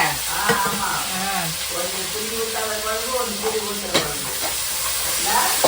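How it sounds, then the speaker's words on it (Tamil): Spices crackle and sizzle in hot oil while being stirred, tempering a Tamil rock fish kuzhambu, with a continuous close sizzle under people talking. "குழம்பு தாளிச்சிட்டு இருக்கம்பா"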